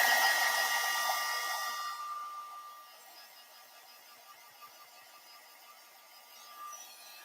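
A heat tool blasts air to dry oxide inks, a loud hissing rush at the start that fades away within a few seconds, leaving faint background noise.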